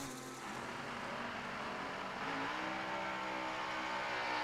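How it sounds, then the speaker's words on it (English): A drag racing car at the New Year Nationals roars in a loud, sustained engine note that builds steadily as it launches down the strip, with no pause. "Kimberly's car sounding like a pro streeter that would basically be rolling through a fairgrounds area."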